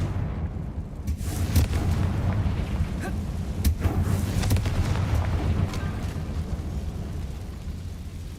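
Confringo fire spell explosions in the Hogwarts Legacy video game: a dense run of booming blasts with sharp crackling bursts, loud and continuous over a low rumbling bed.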